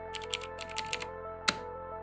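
Quick keystrokes on a mechanical gaming keyboard: a short burst of light, irregular clicks followed by one sharper tap, close and fairly quiet over a steady background hum.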